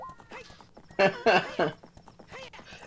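Epona the horse in a Zelda Ocarina of Time randomizer game makes an altered, cow-like animal call: several loud tonal bursts in a row amid clip-clopping hooves, with chat talk in the background.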